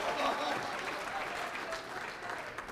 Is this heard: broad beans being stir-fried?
no